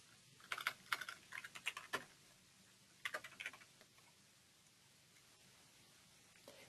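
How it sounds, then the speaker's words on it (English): Quick bursts of typing on a computer keyboard, two short clusters of soft, close key clicks separated by a brief pause, then quiet room tone; no voices. "type in the words you want to have it linked to."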